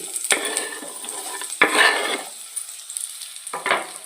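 Sliced onions frying in hot oil in a pan, a steady soft sizzle broken by three louder bursts of scraping and stirring, close by with no talking.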